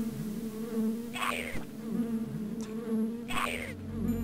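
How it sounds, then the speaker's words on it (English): Bees drone steadily in the Lands of Lore video game, a continuous insect buzz holding throughout with louder swelling bursts, close and alone without any talk. "Oh, that's bees."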